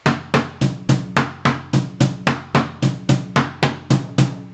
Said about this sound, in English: If this is my question drum, and this is your answer drum